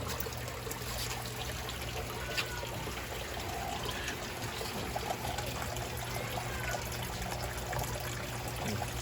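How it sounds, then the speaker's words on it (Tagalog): A faint, steady trickle of water runs and splashes softly into a crayfish tank against a constant low background hum. "bigyan muna natin ng tubig"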